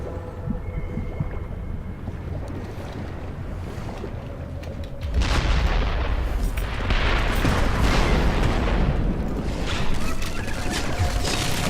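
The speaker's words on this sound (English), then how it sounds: "got one and set off about a zillion explosions" Underwater explosions in the shark-versus-divers game Depth, a muffled low rumble that suddenly swells midway into a sustained heavy booming roar and stays loud to the end.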